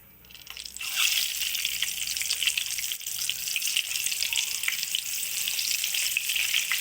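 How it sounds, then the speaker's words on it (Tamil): Eggs roast in a pan for a home-made egg roast, giving a loud, constant sizzle and crackle that rises after a quiet opening and holds steady with no talking. "இப்போ வந்து எக்கு வந்து ரோஸ்ட் பண்ணி ரோஸ்ட் பண்ணி எடுக்க போகிறோம்"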